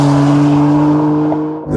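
A 2015 BMW M4 on a race track pulls hard in second gear with its rear tires spinning, a loud steady engine drone with strong tonal harmonics close by, easing slightly near the end.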